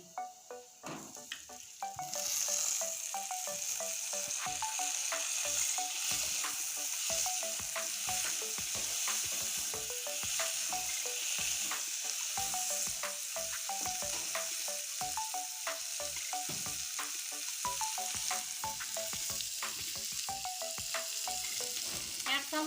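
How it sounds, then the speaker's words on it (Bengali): Chopped onion and tomato fry with garlic in a pan for a taro-leaf dish, making a loud continuous sizzle. Frequent scraping and stirring strokes of a spoon run through it, and no one speaks. "এবার দিয়ে দেব কুচানো পেঁয়াজ আর কুচানো টমেটো দুটো একসঙ্গে দিয়ে দিচ্ছি"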